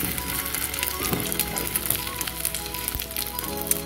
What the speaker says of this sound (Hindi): चलो ब्रेड को फ्राई करते हैं।